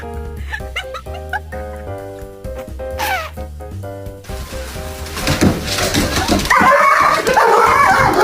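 A small dog yelps and whimpers in short bursts after being denied a treat, rising into louder, agitated barking toward the end against background noise.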